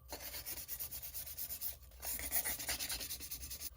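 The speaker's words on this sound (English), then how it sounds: "Now I'm going to take a sandpaper and I'll go over the pink just to give it some distress" Sandpaper rubbed by hand over pink-painted surface to distress it, a quiet rhythmic scratchy rasp in repeated short strokes with a brief pause midway, alone without talk.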